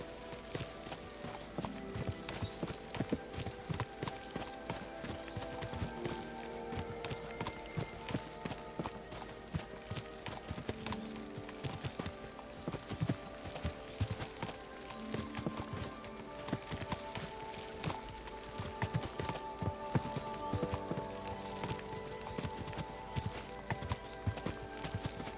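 Horse hooves clip-clop in a steady, dense rhythm over a constant busy background, with no speech heard.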